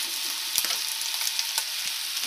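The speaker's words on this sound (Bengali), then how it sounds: "ভালো করে এটাকে একটু সময় ঢেকে মশলার সাথে ভালো করে একটু কষাতে হবে।" Potatoes and broccoli stir-fry with ginger, black pepper and spices in a pan for an egg curry, a dense close sizzle punctuated by several quick scraping stirs of a spatula, no speech.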